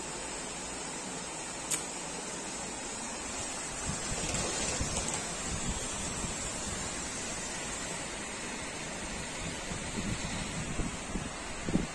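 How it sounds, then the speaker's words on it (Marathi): Dense, steady hiss of heavy rain pouring down in Muscat, Oman, without a break, with occasional gusts and faint spatters close by. "सकाळी आता प्रचंड पाऊस पडतो"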